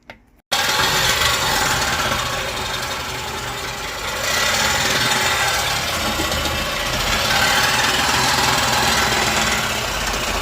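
A power tool cuts a tailpipe off a car muffler, giving a loud, harsh, continuous grinding roar that starts abruptly after a brief quiet moment and holds steady to the end.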